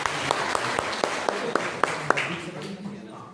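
Applause from an audience at a journalists' honour and Diwali gathering, broad clapping with sharp individual claps standing out in a regular beat, while a voice keeps speaking over it before the sound tapers off.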